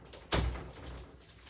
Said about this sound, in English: Let me just shut my door.